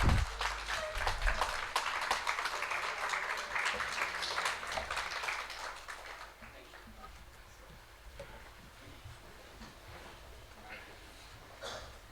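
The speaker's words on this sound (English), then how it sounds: "may I have a big round of applause for a standing ovation" Audience at a publishers conference felicitation giving a standing ovation, dense loud clapping for about six seconds that fades to scattered claps and quiet room noise.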